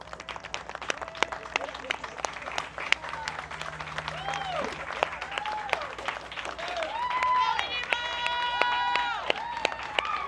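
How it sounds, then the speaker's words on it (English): An audience claps and cheers at a gathering, in warm steady applause with scattered sharp claps, while voices talk and call out over it, growing somewhat louder toward the end. "definitely a round of applause for him"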